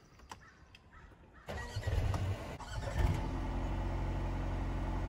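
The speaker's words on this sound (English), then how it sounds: "and I'm gonna go ahead and start it up." A Mercedes A220 car's engine cranks and starts nearby after a few quiet clicks, catching with a short cranking burst and then settling into a steady idle hum.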